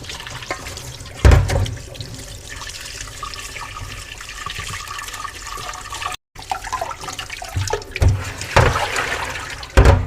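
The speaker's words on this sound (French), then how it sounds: "je vais rincer dans l'eau froide." Cooked noodles are rinsed under cold running water from a tap, a continuous rushing splash with bursts of louder spattering and sloshing close by, pausing briefly midway before the flow resumes.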